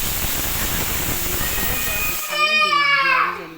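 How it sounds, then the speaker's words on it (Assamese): A pressure cooker boiling potatoes and eggs hisses with loud steady steam, then breaks into a shrill rising whistle near the end. "এয়া আলু আৰু কণী কুকাৰ এটাত সিজিবলৈ দিলোঁ।"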